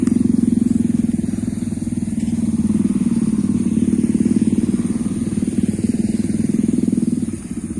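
A home-built 7-inch FPV drone sits with its motors whining and humming steadily at close range, a constant buzzy drone standing in for a missing buzzer, loud and unbroken throughout.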